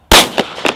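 Three sharp gunshots from a Glock 43 pistol firing Winchester 124 grain NATO rounds over a chronograph, one loud report followed by two quicker, quieter shots in under a second, no talking.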